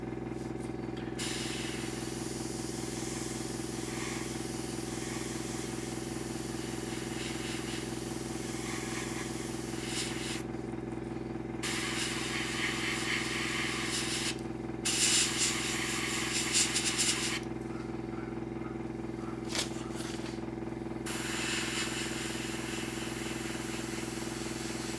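An airbrush sprays Mission Model Paints in short bursts of airy hiss, several separate passes of a few seconds each over a constant low compressor hum, with no talk.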